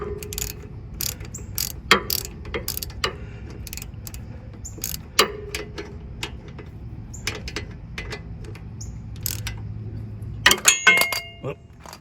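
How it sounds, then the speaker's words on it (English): A hand ratchet repeatedly clicking as it tightens the top brake caliper bolt on a Cadillac Escalade during a disc brake job, with steady rapid pawl ticks, close up, and a louder flurry of clicks near the end. "now we're gonna tighten up the top one"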